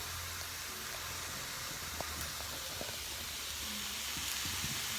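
Sliced mushrooms and vegetables sautéing in a pan give a soft, steady sizzle and hiss, with a few faint clinks and pops over the continuous frying.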